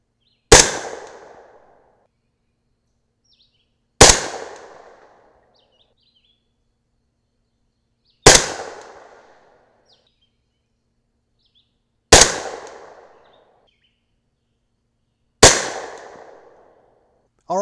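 Five loud, sharp 300 Blackout rifle shots fired with Sig Sauer Elite Performance subsonic ammunition, spaced about four seconds apart, each a crisp crack with a short fading tail and silence between.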